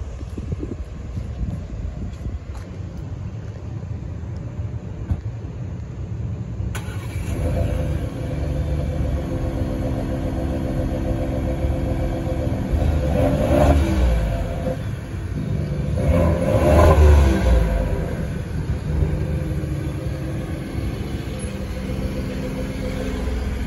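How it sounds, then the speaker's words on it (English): A 2023 Ford F-150 Tremor with dual-tipped exhaust starts and revs outdoors, a low rumbling idle rising through two distinct throttle blips, with wind buffeting the microphone throughout. "Let me know how that specialty dual tipped exhaust on the Tremor sounds."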